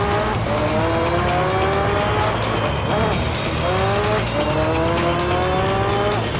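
A race car spinning out in Gran Turismo 3 gives a loud, continuous engine roar under repeated sharp tire squeals. The squeals rise and break off several times as the car slides.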